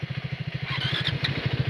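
A 2024 Triumph Speed T4 motorcycle engine running close by, a steady rapid thumping idle pulse that holds an even rhythm throughout, with faint higher mechanical clatter on top.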